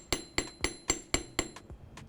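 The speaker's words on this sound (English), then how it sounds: "lay it down on my bench block, give it a little hammer" A hammer strikes jewelry metal laid on a steel bench block in six evenly spaced, ringing metallic taps, followed by a couple of softer ones, close up with no talk.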